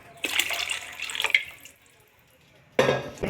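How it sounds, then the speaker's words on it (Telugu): Water is poured into a pan of Rayalaseema-style tamarind fish curry in two bursts: a splashing pour of about a second and a half, a quiet pause, then a second pour starting abruptly. "కొన్ని నీళ్ళు వేస్తాం, కొంచెం గట్టిగా"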